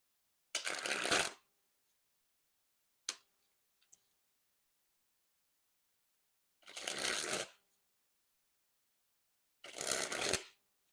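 Dan and Dave Deck Starter playing cards springing from hand to hand in three separate bursts, each a loud, close, rapid fluttering riffle under a second long, with a faint tap between them.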